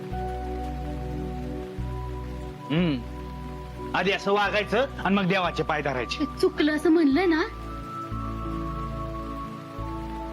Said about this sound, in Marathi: पाऊस पण एवढा कोसळतोय ना.